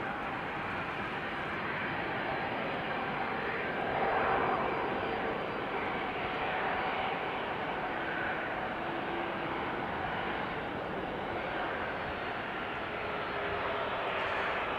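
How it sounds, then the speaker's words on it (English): Embraer 175 airliner arriving at Amsterdam Schiphol Airport gives a steady, distant, broad engine roar that swells slightly and then holds, with no talk over it. "Embraer 175 arriving from Düsseldorf right behind it."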